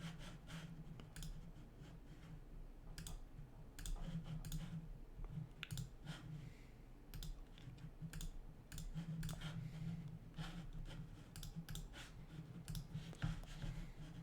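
Mouse clicks from someone working in Adobe XD, a steady run of sharp, close, faint taps spaced irregularly over a low constant hum, with no talking.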